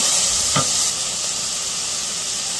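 Garlic sautéing in a pan for saffron rice, a close, steady sizzle and hiss with a brief stir or scrape partway through.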